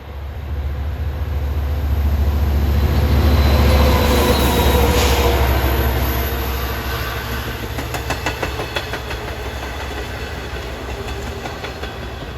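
Long Island Rail Road train 2770, running from Babylon to Patchogue, rumbles past nearby with heavy low wheel noise. Screeching flange squeal and rhythmic clicking over rail joints follow, and the sound stays loud throughout.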